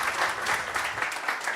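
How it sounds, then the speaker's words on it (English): An indoor audience claps in a warm round of applause at a live-streamed talk, a dense, even patter of many hands that holds steady and close for the brief moment. "Let's give Robert a huge round of applause"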